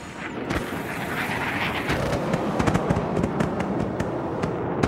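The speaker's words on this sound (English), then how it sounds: "Using simulated machine guns, a classic dogfight ensues." Simulated machine gun fire during a fighter jet dogfight comes as a crackle of sharp bursts and pops, irregular and fairly loud, layered over a continuous roar of jet noise with no talking.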